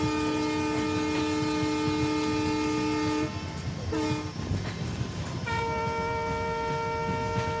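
An EMD diesel locomotive from the Siliguri shed, running long hood forward in Trainz Simulator, pulls the Sealdah–New Alipurduar Padatik Express. Its horn blasts loudly over a constant engine rumble, breaks off, then sounds again.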